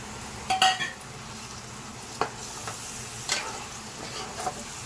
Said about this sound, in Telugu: మసాలా వేగింది టమాటా అయితే వేస్తున్నాను రెండు టమాటాలు